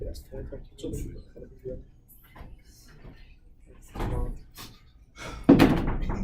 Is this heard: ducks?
no